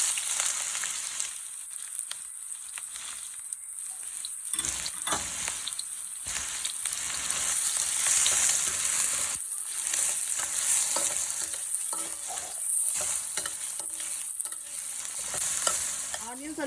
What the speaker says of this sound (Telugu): ఆ తర్వాత చాప్డ్ ఆనియన్స్ వేసుకొని ఫ్రై చేసుకోవాలి.